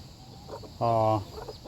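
A mother hen gives a short, loud cluck near her two newly hatched chicks, close by, with quieter clucks and soft sounds around it.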